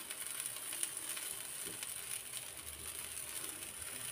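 Round eggplant slices fry in a thin layer of oil, giving a soft, steady sizzle with faint crackles, quiet and continuous throughout.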